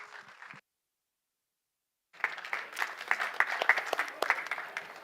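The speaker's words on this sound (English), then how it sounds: "Let's please give a huge round of applause and a grand welcome to our great friends, Planetary X." An audience at a COP28 hangout event on nature and land use bursts into applause after a brief silence, the clapping building into a loud, sustained crowd sound with a few sharper claps standing out.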